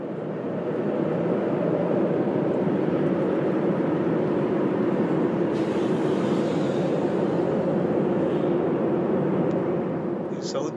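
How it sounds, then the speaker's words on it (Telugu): Steady broadband roar of a Southwest Airlines Boeing 737's engines heard from inside the passenger cabin during flight, a constant loud drone that continues without pause, with no talking. "ఇది ఒరిజినల్ సౌండ్ ప్లేన్ లోపల ఇంజిన్ సౌండ్."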